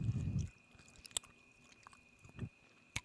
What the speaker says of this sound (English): let me just chew a little bit more so you can hear it.